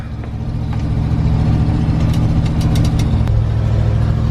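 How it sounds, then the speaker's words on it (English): A 1988 Ford F250 truck engine idles on flat ground, a steady, close low rumble that holds an even, continuous tone throughout with no voices. "We're just gonna pull it ahead so it can idle on a flat ground."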